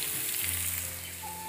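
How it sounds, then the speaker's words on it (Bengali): Potatoes and carrots fry in oil with a close, steady sizzle and hiss, continuous and fairly loud with no voices. "এখানে দেখো আলু ভাজছি, আলুর দম করবো, আর এখানে গাজর ভাজছি,"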